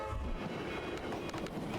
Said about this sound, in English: Militia supply train, southbound.